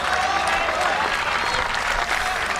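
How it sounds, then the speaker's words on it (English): Crowd applauding steadily at a WTA professional tennis match in Mumbai, dense sustained clapping throughout after a strong forehand, with a faint hum of crowd noise underneath. "the crowd claps because the local favorite has just delivered that really great forehand"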